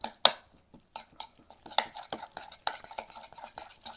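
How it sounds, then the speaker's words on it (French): A salad with cherry tomato is mixed in a bowl. A utensil clinks and scrapes in quick, irregular bursts, close and fairly quiet, with no talk. "on va bien mélanger tout ça."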